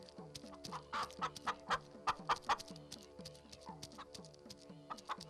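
A hen clucks repeatedly in short rhythmic bursts, close and clear, with occasional louder squawky notes over a steady low background hum.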